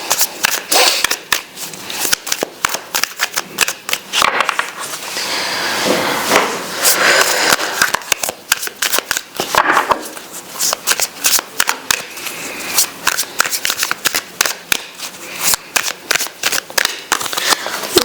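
Tarot cards are shuffled and drawn one by one, producing rapid, crisp riffling and flicking taps up close, with brief pauses between bursts and a little quiet talk.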